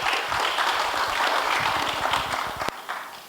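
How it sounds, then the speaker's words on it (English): A room full of conference attendees applauds a speaker, steady clapping for a few seconds before it thins out and fades. "Please, a round of applause to Professor once again."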